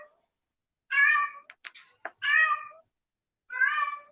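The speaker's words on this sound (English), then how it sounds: "my cat is meowing" A cat meows close by, three drawn-out meows with a few short chirpy sounds in between, set against near silence.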